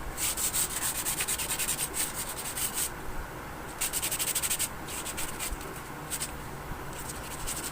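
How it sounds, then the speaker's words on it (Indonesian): Sandpaper scrubs over the surface of a homemade cement bonsai pot in quick back-and-forth strokes, a dry, steady rasping close by that pauses briefly a couple of times. "kemudian kita amplas agar lebih halus ya"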